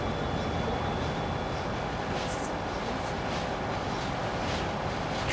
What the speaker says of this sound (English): Train. Toot toot.